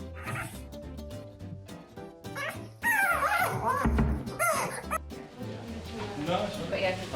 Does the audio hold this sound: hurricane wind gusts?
no